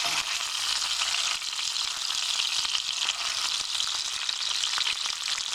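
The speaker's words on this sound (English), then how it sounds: "bacon fat in the pan. Add your diced potatoes." Diced potatoes frying in bacon fat in a pan, a loud dense continuous sizzle heard close up and alone without talk.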